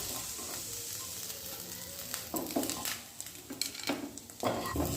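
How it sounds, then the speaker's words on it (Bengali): Fish frying in a small karai sizzle steadily in hot oil, then bursts of louder spitting and crackling follow as the pieces are turned over. "এবার মাছগুলোকে উল্টে পাল্টে সব দিকে ভালো করে ভেজে নিচ্ছি"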